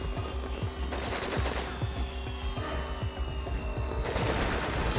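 Rapid automatic AK rifle fire from the PlayStation 2 shooter Cold Winter, with dense bursts of loud cracking shots and booming echoes in a steady stream, no talk.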